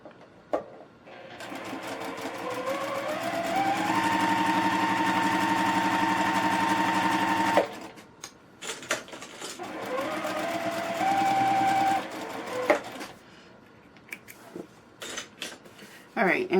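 A sewing machine stitches a fabric square to a rectangle in two steady, whirring runs with a rising pitch at the start of each, separated by brief handling noise and light clatter.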